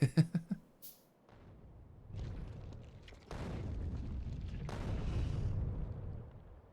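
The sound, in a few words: artillery shells hitting an enemy nest in the video game Factorio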